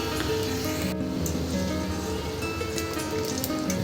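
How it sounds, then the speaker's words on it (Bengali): Rice-flour pitha fry in oil in a pan, giving a steady, dense sizzle with crackling bubbles throughout and no talking. "এই তো লাল করে ভেজে নিয়েছি আমার পিঠাগুলো"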